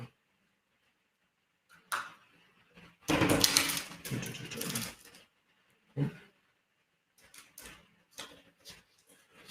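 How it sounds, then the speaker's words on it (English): Tarot cards being shuffled by hand: a loud, dense riffling burst of a few seconds, then scattered soft card slaps and taps, close and with no voice over it. "I'm going to shuffle these"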